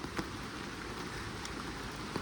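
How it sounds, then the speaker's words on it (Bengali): Soft, steady rain patters on a surface near a hill in Purulia, a quiet continuous wash of drops with occasional slightly louder taps. "তো বৃষ্টি হচ্ছে"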